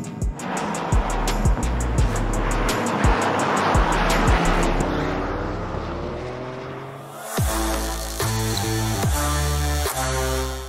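A 2023 Toyota Corolla GR on track, its engine revving hard and loud with repeated gear-change pulses, the note dipping and then climbing again through a pendulum-turn manoeuvre.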